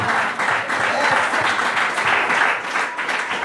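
Applause during a Sunday church service, a dense, steady patter of many hands clapping from the congregation, sustained and fairly loud for a few seconds without letting up.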